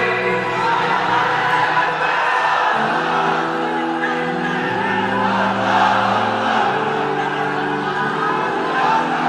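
A large crowd at a Bangla waz gathering shouts the takbir together, a loud sustained roar of many voices filling the space without pause.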